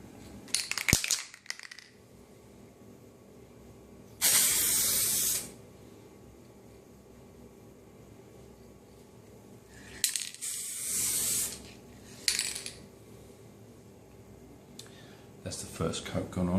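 SprayDip rubber aerosol coating hisses from a shaken tin in three bursts of about one to two seconds each, spaced apart, with quieter handling noise and a final short spray between them.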